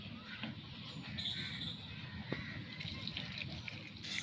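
A little water goes into a freshly ground village-style Odia spice paste of coriander, cinnamon, bay leaf, chili, onion, garlic, mustard and cumin, giving a steady, soft, close sloshing and trickling with faint background noise.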